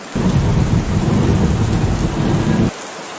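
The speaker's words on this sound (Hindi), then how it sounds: "उफ, अचानक से इतनी तेज बारिश स्टार्ट हो गई" Heavy rain pours down loudly with a dense, steady roar and deep rumbling thunder, then cuts off abruptly near the end, leaving quieter background.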